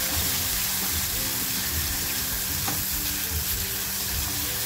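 Masala sizzling and frying in a pan, a loud, steady, close crackling hiss that runs without a break from start to finish, with no talk over it.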